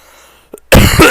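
One loud, close, harsh cough bursts out after a brief quiet moment and a small throat sound.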